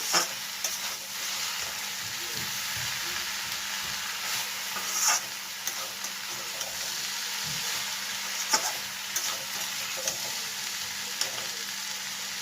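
Egg noodles are stirred and tossed with vegetables in a hot pan, producing a constant sizzle overlaid with irregular scraping and tapping from the utensil, close and unaccompanied by speech.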